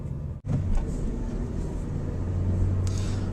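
A manual car's engine holds a low steady rumble that rises slightly as the clutch is eased out around 2000 RPM and the handbrake is released, with a brief click near the start.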